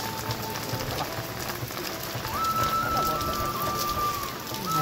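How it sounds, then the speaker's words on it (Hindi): Heavy rain pouring down steadily and loudly outdoors, a dense continuous hiss with a faint tonal hum in the background and no speech. "वर्षा जोर हो"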